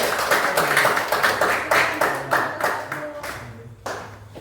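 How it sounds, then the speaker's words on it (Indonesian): Students in a classroom applaud a presenting group, giving loud, close clapping that pulses in a loose rhythm before thinning out to a few last claps. "beri tepuk tangan untuk kelompok 1"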